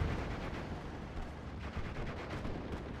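Dense artillery and gunfire rumble continuously in a Steel Division: Normandy 44 battle, a steady wash of distant booms and crackling shots with no pauses.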